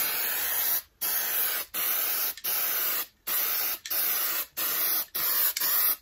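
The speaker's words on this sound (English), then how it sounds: "then I tip the can back, and that helps give it a little bit of fade to the top, so not as much paint is going onto the fabric" A spray paint can sprays onto fabric in a string of about eight close, loud hissing bursts, each lasting around half a second to a second. Short silent gaps separate them in an even, repeating rhythm.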